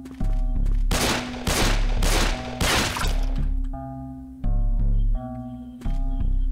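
Bursts of rapid gunfire crackle in The HappyHills Homicide video game, several loud volleys of shots in quick succession followed by sharper isolated pops over a steady game tone, with no talking.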